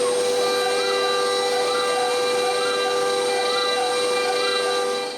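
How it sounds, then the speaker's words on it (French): A CNC router spins a bit to drill magnet holes in the back of a wooden plate, a loud, steady high-pitched whine with a faint, regular pulsing under it. "Après avoir placé la fraise à 0, je peux percer les trous pour les aimants à l'arrière."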